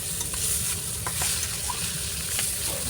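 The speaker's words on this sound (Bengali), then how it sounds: "তাই একটু সময় নিয়ে ধীরে সুস্থে ভাজতে হবে। উল্টিয়ে দিচ্ছি" Large fresh fish head frying in a pan as it is turned over, a steady dense sizzle with a few soft scraping knocks from the flip, close and fairly loud with no talking.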